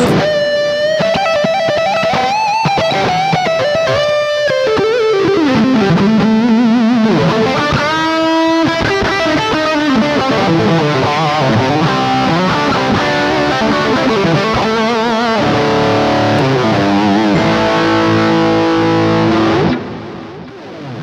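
A Cort G300 Raw electric guitar plays a distorted solo, loud and close, with fast melodic runs, bends and sustained notes over about twenty seconds before cutting off abruptly.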